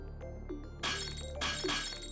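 A glass bottle smashes in Zero Time Dilemma, with two sharp bursts of shattering and tinkling glass over a low background hum, with no talking.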